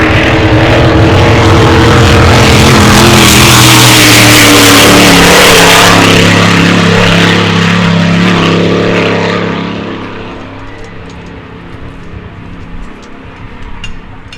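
Hydroplane racing boats roar loudly across the water, their engines droning close and strong, then fading into the distance with a quieter tail at the end.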